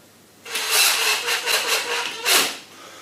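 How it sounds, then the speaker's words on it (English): A cordless battery screwdriver drives a screw into a plastic wall plug: about two seconds of steady motor whir in short surges, rising near the end as the screw seats, fairly close and alone. "Use my battery screwdriver."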